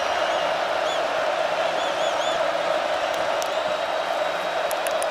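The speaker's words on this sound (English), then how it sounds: "Clapping." A huge stadium crowd at a Notre Dame versus Michigan football game roars and claps in a constant loud wash of noise, with whistles and whoops rising above it.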